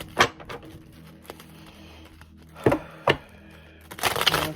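Tarot cards are shuffled in a few quick bursts of crisp flicking and tapping, close by, with quiet pauses in between and a rushing flutter at the end.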